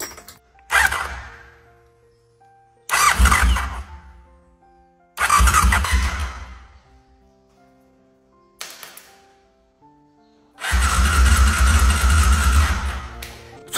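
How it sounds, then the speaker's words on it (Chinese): A BMW engine from a scrapped car is cranked directly through its starter motor off an external battery, with spark plugs removed: five separate loud whirring bursts, the last one longest, each separated by silence. "我准备直连它的启动机，看看发动机的内部还能不能正常的运转。"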